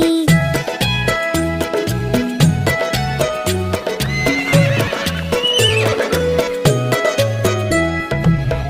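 Horse neighs and whinnies in a children's rhyme, set against a bouncy musical backing with a steady beat. The whinnies rise above the music several times, and clip-clop hoof sounds run along with the rhythm.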